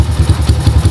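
A Honda GL100 motorcycle engine, freshly repaired with new valve seals and lapped valves, idles steadily nearby with a regular low thumping pulse.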